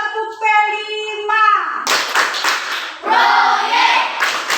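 A classroom of children does a rhythmic clap chant in an Indonesian primary school lesson, a voice chanting at first, then bursts of group clapping mixed with children's chanted voices, close and loud.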